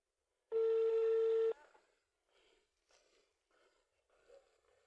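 A phone call placed to a customer who does not answer, opening with a loud steady electronic ring tone for about a second, followed by quieter, fainter intermittent sounds that trail off.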